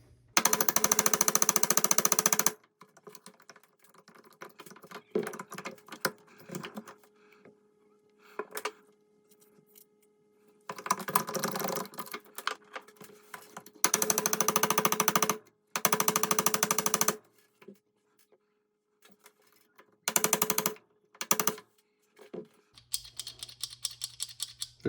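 Tapping drives the bolt catch pin into an AR-15 (Wolfpack Armory AW-15) lower receiver: sharp, irregular close taps separated by quiet gaps, with several louder sustained bursts of harsh noise.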